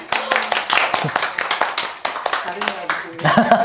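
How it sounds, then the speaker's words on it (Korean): A group claps in a burst of applause during a yoga class, steady and moderately loud, with voices and laughter mixed in underneath. "박수."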